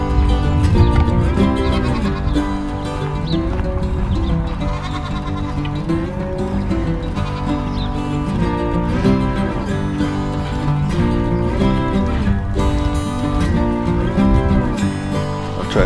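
Farm goats bleating over and over in a steady, close chorus of wavering calls that continues without a break.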